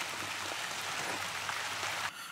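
Outdoor rain falls steadily as a dense, even patter of drops that stays constant and then briefly eases near the end, with no talking.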